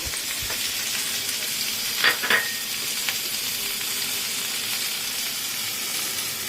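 Potato and taro chunks fry in hot oil, producing a steady close hiss and sizzle with a couple of brief metallic clinks from stirring partway through.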